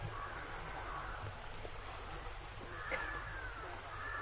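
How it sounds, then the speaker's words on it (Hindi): Crows caw faintly in a forest setting, their harsh calls rising now and then over a steady, muffled background hum. "यहां इतने पक्षियों की आवाजें हैं,"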